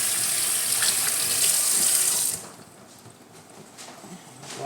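Water from a kitchen sink tap pours in a strong, steady hiss for about two seconds and then cuts off abruptly, leaving a faint room tone with light clatter.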